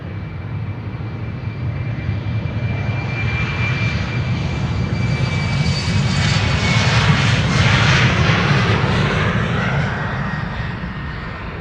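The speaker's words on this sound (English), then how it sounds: "Here at the threshold, this Embraer 190 will be leaving for Christiansand, KLM flight 1185" KLM Embraer 190 jet taking off from the runway threshold at Amsterdam Schiphol, a loud continuous engine roar with a rising whine that swells toward the middle and holds, no voices.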